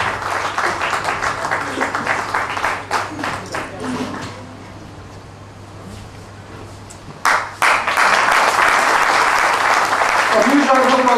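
Applause from an audience at a foundation day event honoring Sunil Pai, loud and sustained at first, fading to a lull midway before a fresh burst swells back strongly, with a voice speaking over the claps.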